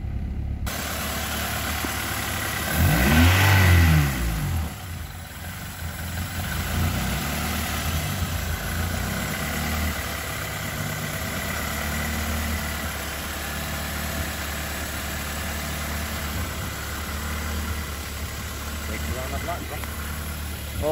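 A Honda Accord CB7 engine with a fuel pump problem idles steadily after being started, a low continuous hum close by, with a short louder burst early on and a voice speaking over it.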